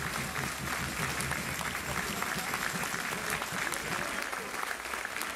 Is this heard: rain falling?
no